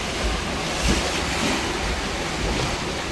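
Rough, steady wash of churning floodwater waves in a street after rain, with a constant windy rumble, broad and noisy throughout with slight swells.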